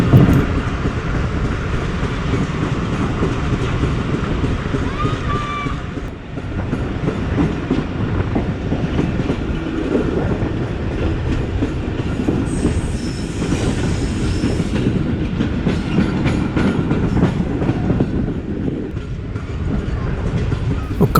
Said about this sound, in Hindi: इस वक्त अप्रोच बना रही है ओकाड़ा स्टेशन के लिए